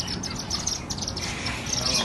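Many birds chirp and tweet continuously at a bird market in Jeddah, a dense, bright chorus of overlapping calls with steady market ambience underneath.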